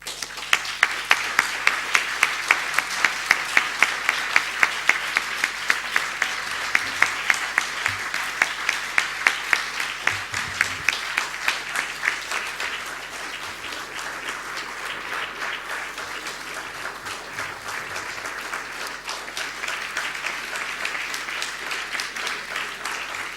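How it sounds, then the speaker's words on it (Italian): Long, sustained audience applause after an architecture lecture, with a regular clap-like pulse in the first half that settles into dense, even clapping from a large hall crowd. "L'applauso è molto eloquente"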